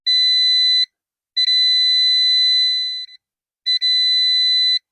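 Loud electronic beeping from a Gemini garage door motor: three long, steady high-pitched tones separated by short silent gaps, with nothing else audible.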